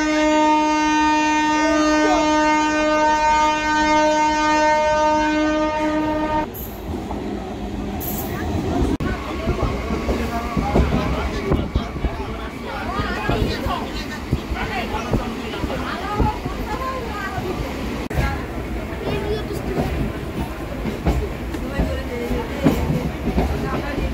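Shalimar Okha Express passenger train bound for Dwarka, heard from onboard as a sustained low rumble and rattle of the rails, preceded by a brief steady tonal horn-like hum before the running noise takes over, with faint voices in the carriage.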